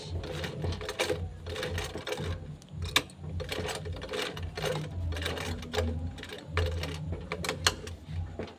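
Sewing machine back-stitching a bag, a fast rapid-fire clatter in short repeated bursts with brief pauses between runs, close and steady.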